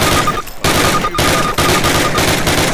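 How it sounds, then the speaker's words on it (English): Rifle fire in the video game Call of Duty, with dense bursts of loud gunshots running almost without a break and two short gaps, close and alone with no talk. "Now fire 2 rounds at your target while aiming down your sight."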